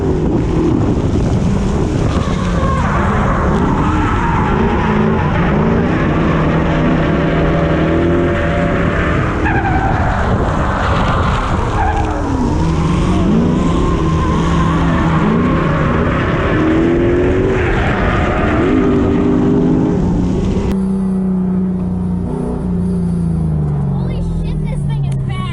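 A car makes a fast run with its tires squealing and skidding, the engine roaring loudly and steadily throughout amid wind noise, with a voice talking over it.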